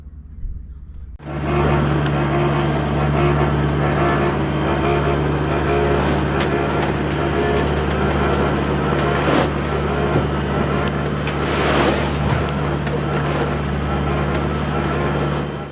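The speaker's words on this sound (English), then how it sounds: "just motor sailing into a force 7 to 8 gale is actually not pleasant" A sailboat's constant engine drone mixes with roaring wind and rushing water as it motors through a force 7 to 8 gale, loud and unbroken, with occasional gusts and thumps from waves.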